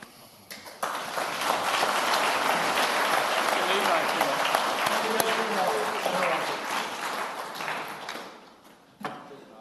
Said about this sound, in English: Another round of applause for Piers.